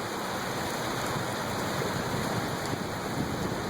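Heavy thunderstorm rain pours down without a break in Lynn/Saugus as a storm with a reported funnel cloud approaches. A dense, loud, constant roar with no voices.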